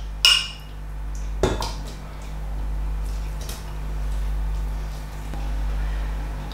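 Chicken meat tumbles into a pot of sauce for chicken fricassee, with a clatter of a utensil against the pot, a second knock, and a soft low hum underneath.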